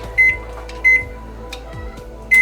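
Three short, clear beeps from an oven's control panel as the temperature is set in a home kitchen, evenly spaced and alone, with faint kitchen background between them.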